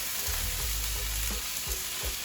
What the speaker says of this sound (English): the onion and garlic's been frying away now for a while, and the onion's just starting to soften there. You can probably hear that frying away